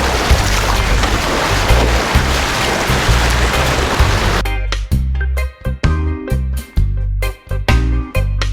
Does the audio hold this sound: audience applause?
no